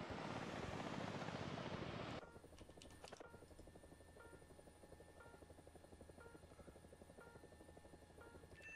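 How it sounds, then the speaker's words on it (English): Helicopter flying in a video game, a broad rotor roar for the first two seconds, then a steady, quieter rhythmic rotor chop with a faint whine continuing to the end, no talking. "Go, chopper, go!"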